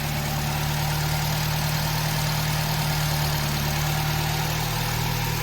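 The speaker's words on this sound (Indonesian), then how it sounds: "Kalau mesin enak teman-teman, mesinnya terdengar halus, tidak ada getaran yang kasar" A used car's engine idles smoothly and steadily, with no harsh vibration, a constant even drone holding at the same level throughout with no voices.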